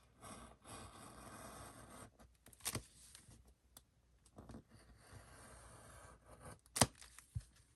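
Scissors snipping through paper to cut out a junk portfolio handle, giving soft, close, intermittent tearing and rubbing strokes with a few sharper clicks and short pauses between cuts.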